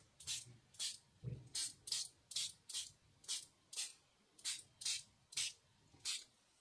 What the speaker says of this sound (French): je viens pchiter un peu d'eau